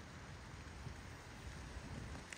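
Steady rain falls through a forest on a June woodland walk among chanterelles and other mushrooms, a soft, even hiss of drops with low patter underneath, faint and constant, with no voices.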